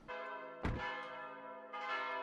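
A chapel bell rings in the video game Mon Bazou, two resonant strikes with a long humming decay between them, loud and close with no voices.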